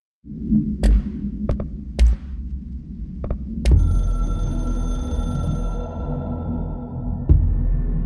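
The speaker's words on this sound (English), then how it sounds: "I can hear the hotline ringing in my dreams, constantly ringing" In the game Control, a hotline telephone rings in sharp, spaced bursts over a steady low throbbing hum, with a sustained ringing tone swelling midway and one more sharp ring near the end.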